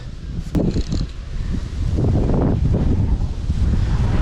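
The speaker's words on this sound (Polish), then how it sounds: "ależ wiatr" Strong wind buffets the microphone at a sturgeon and carp fishing lake, a steady low roaring rumble that swells and holds for several seconds, with no voices.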